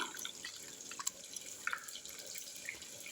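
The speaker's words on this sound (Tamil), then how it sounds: "இந்த புளி தண்ணியை தூக்கி இதில் ஊற்றிக்கலாம்" Tamarind water is poured into a village-style eggplant fish curry, a quiet liquid trickle with scattered drips and splashes, close and soft, with no speech.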